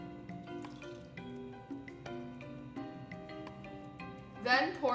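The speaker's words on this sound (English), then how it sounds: "pour in the juice of 1 lemon" Lemon juice drips and trickles into a food processor in small, close, irregular droplets, ending in a brief louder splash.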